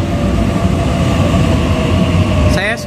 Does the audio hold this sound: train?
yes